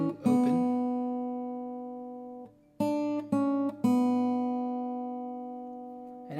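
Acoustic guitar fingerpicking, several plucked notes ringing and sustaining close up, a short sequence of picked notes with brief gaps, played alone with no talking.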